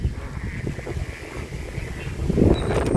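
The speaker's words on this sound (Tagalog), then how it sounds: "Ayan ang lakas ng hangin." Strong wind buffeting a microphone outdoors while flying a hawk-style kite with a sumba noisemaker, a steady low rumbling roar that swells louder toward the end, with no speech.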